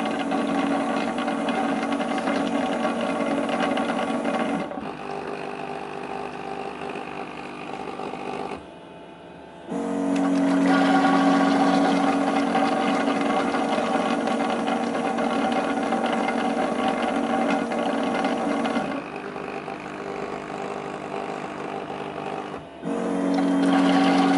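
A robot mop parked at its docking station washing itself, a steady mechanical whirring and rattling hum that runs for long stretches, briefly drops off and then resumes.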